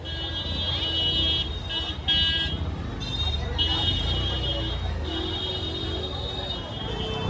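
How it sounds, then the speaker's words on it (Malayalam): Car horns honking in dense, busy Varanasi street traffic, several overlapping electronic horn tones sounding repeatedly over a loud engine and road rumble, with a voice talking nearby. "കാറൊക്കെ പറഞ്ഞാൽ കണ്ടില്ലേ, ഹോൺ അടിച്ച് പിടിച്ചിട്ടാണ് ഓരോ വണ്ടികളും ഇങ്ങോട്ട് വരുന്നത്."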